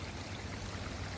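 Water pours from pipes back into a koi pond, a steady close rushing and splashing flow with no pauses and no voices.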